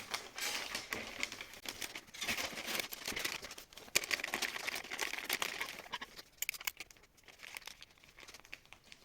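Close, crinkly rustling and crumpling of wrapping paper as a book is gift-wrapped for a homemade advent calendar, continuous soft crackles with occasional sharper tears, quiet and without talking.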